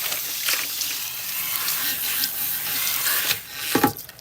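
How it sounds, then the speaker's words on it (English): Water runs and splashes while natural hair is rinsed, a steady close hiss with rubbing and squelching textures and a few sharper splashes near the end. "we're giving her a thorough rinse"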